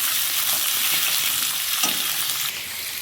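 Potatoes fry in a pan with a steady, loud, dense sizzle that hisses continuously from start to finish, close up and with no speech.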